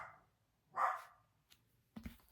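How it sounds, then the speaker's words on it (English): A pet dog barks once from another room, faint and somewhat distant, followed by a softer yip a moment later in an otherwise quiet indoor space. "Sorry if you can hear my dog barking."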